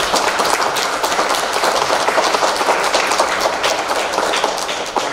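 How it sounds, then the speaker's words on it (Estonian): Sustained audience applause at a children's singing event for the singers' coaches and parents, many hands clapping in a dense, even patter that carries on throughout and eases slightly at the end. "Neil üks suur aplaus!"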